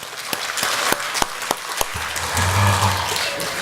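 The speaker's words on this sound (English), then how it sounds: "A round of applause for all our girls." A school annual day audience applauds the girls with a dense wash of clapping and a few sharper claps standing out early, while a low voice or crowd murmur rises underneath toward the end.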